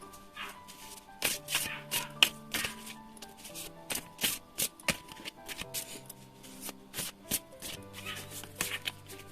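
Tarot and oracle cards are shuffled by hand in irregular bursts of crisp riffling and flicking, with quiet pauses between them. The sound is close and no one speaks.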